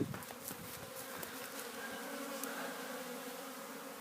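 Honeybees fly around a breeding-colony hive during a cleansing flight, a steady soft buzzing hum with occasional closer passes, faint and continuous with no voices.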